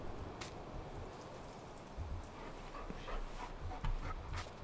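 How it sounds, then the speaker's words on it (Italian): A dog in the video game Farming Simulator 19 pants and whimpers softly while being fed at a farm, faint and close, under steady low background noise. "diamo da mangiare al nostro cagnolino"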